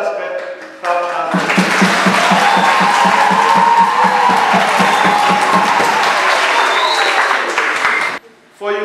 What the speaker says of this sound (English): Let us clap hands.